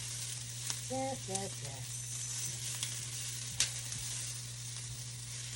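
Garlic and ginger sautéing with onions in a pan give a steady, even sizzle at close range, with a person briefly speaking over the frying.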